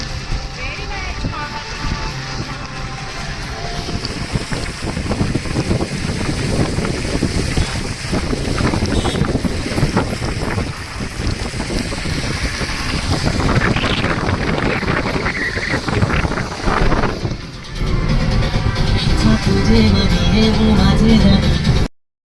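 A car driving along, heard from inside the cabin, with heavy wind buffeting and a constant rushing roar throughout; voices talk over it.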